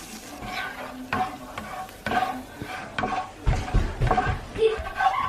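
Two tablespoons of butter melting with olive oil in a pan, sizzling and frying steadily while a utensil stirs and scrapes in uneven bursts, close and clear.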